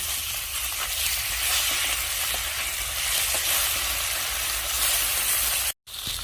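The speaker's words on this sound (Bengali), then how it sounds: "অপর পিঠ উল্টে হালকা করে ভেজে নেব" Bata fish sizzles steadily in hot oil, a continuous close crackling hiss with faint spatters, cut off abruptly near the end.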